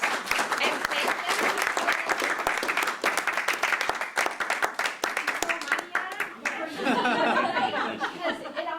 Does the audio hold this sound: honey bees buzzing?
no